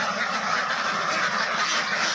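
Around 250 farm ducks call together on a foggy morning just after release, making a dense, continuous chorus of honking quacks close by.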